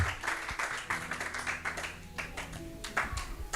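Church congregation in Béthune clapping and cheering in acclamation of Jesus Christ, a steady dense wash of applause with scattered voices calling out, fairly close and filling the room.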